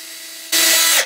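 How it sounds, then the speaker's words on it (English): A power drill revs up sharply and bores steadily through glue in a guitar neck joint at close range for about half a second, then winds down quickly. "I can feel drilling through glue."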